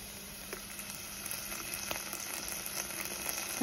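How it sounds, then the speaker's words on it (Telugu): Onion and green chilli pieces fry in hot oil for a chicken katta, giving a steady soft sizzle with faint crackles and pops throughout, close and moderately quiet, with no talking. "ఉల్లిపాయ పచ్చిమిర్చి ముక్కల్ని వేయించుకుందాం। ఉల్లిపాయ ముక్కలు వేగనియండి"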